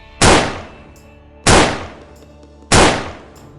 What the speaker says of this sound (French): Il a tiré 3 fois.